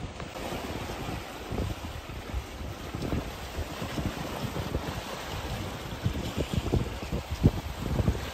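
A sailboat under sail, including a big Genoa, moves through wind and water, with steady wind buffeting across the microphone and low rushing water noise all the way through.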